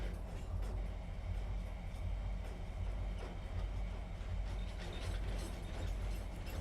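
A train rolls along in the railway game Trainz, a faint, steady low rumble with rhythmic clattering that continues evenly throughout.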